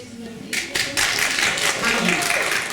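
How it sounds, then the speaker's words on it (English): A live audience at a community talent event breaks into a round of applause, dense clapping swelling in after a brief pause and continuing steadily, with voices mixed in underneath. "can you give yourself a round of applause?"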